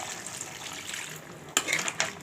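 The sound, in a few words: water poured into crab gravy pan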